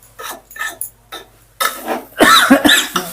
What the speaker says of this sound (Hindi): खांसी आ गया मेरे को